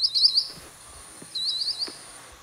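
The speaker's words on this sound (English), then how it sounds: "Sandpiper." A sandpiper gives two short bursts of thin, high, rapid piping calls with a pause between them, faint and clean over a quiet background.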